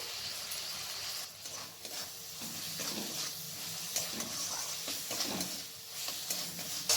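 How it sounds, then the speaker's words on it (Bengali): Chopped tomato and salt frying in a pan for a paneer dish give off a steady, moderately quiet sizzle with soft hiss and faint stirring scrapes throughout. "এরপর আমি এই স্টেজে টমেটো কুচিটা দেব, তার সাথে স্বাদ মতো নুন দিচ্ছি"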